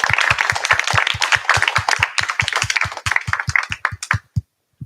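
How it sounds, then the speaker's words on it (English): Close, steady clapping from a workshop audience honoring the organizers, sharp claps in an even, fast rhythm for about four seconds, then stopping abruptly into silence. "how about we have one round of applause for the organizers for putting this together"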